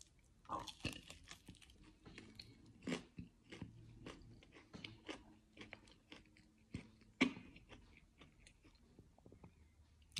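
Close, quiet chewing after drinking apple vinegar, with irregular crunchy bites, wet mouth clicks and squishes scattered over about ten seconds, heard alone without speech.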